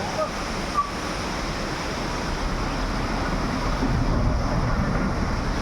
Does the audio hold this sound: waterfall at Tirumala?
yes